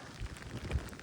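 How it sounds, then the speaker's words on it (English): Gusty wind buffets a hilltop in a brief, low rumbling burst, close and fairly faint, with no other sounds. "It is windy up here."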